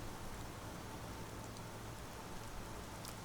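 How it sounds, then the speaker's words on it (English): Steady rain falling at a village entrance in Skyrim, a soft even hiss of drops with no breaks, faint and continuous with no voices. "This is the entrance to the village, and it's raining right now, as you can see."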